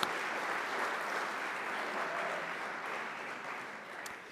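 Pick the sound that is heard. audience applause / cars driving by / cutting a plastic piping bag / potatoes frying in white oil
audience applause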